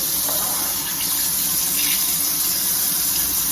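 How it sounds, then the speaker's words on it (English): Running tap water pours steadily over baby back pork ribs in a sink as they are rinsed, a loud, continuous close-up gush and splash without any talking. "Always rinse pork."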